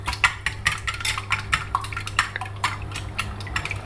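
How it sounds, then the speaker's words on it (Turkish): Four eggs whisked in a mixing bowl for a flourless, gluten-free tahini bread, a quick run of clinking, scraping strokes against the bowl, steady and close with no talk. "Önce 4 adet yumurtamızı karıştırma kabımızın içerisine alıp güzelce çırpıyoruz"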